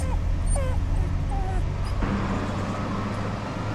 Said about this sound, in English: The little seal cried and cried.